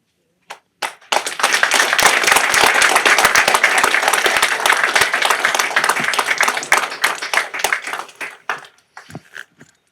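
A room of people at a parish council meeting clapping together, starting with a few claps, swelling into loud, steady applause for several seconds, then thinning out to scattered claps.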